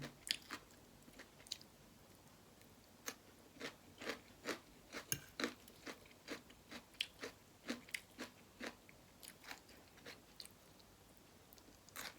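Crunchy pickled vegetables are chewed close up with khanom chin noodles in a chicken-feet curry, Isan style: a steady run of about twenty sharp, crisp crunching bites, quiet and without talking.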